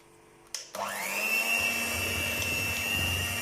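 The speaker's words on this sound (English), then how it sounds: "now you have to beat it well for 30 seconds in the slow speed of beater" Electric hand beater whirring through thick chocolate brownie batter at slow speed, switching on with a click and spinning up into a steady, close motor whine with a low churning underneath.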